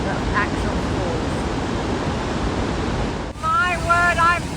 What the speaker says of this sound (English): My word, I've never ever seen the falls with so much water